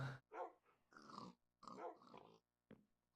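Dogs in Sky Factory 4, a Minecraft modpack, give several short growling, whining barks in an uneven series of bursts, fairly close and alone without talk.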